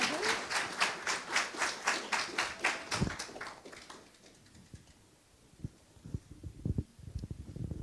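An audience at the UCLA MaSS 2022 commencement ceremony claps in a steady, rhythmic unison beat for about three seconds. The clapping then fades, and a voice speaks quietly.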